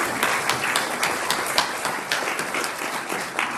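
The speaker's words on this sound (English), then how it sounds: "let's give them a round of applause" Audience at a community coffee gathering applauding staff including the maintenance and grounds team, a dense steady round of clapping from a small crowd, moderately close.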